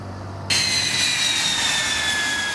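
An L-39 jet trainer engine whines in flight, a loud steady roar that starts suddenly and carries a high turbine tone slowly gliding downward in pitch, with no voices.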